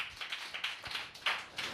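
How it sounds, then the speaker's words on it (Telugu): Scattered hand claps from a church congregation at a Sunday sermon, a few uneven bursts rising and falling over a couple of seconds, moderately distant and fairly soft. "కొట్టండి చప్పట్లు ఒకసారి."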